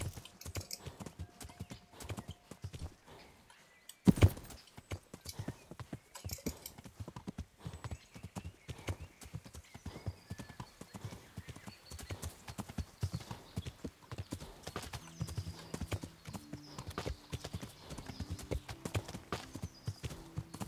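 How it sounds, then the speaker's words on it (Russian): Horse hooves clip-clop steadily in Kingdom Come: Deliverance, a close, rhythmic clatter running throughout, with a sharp thump early on and soft game tones later. "Лошадь."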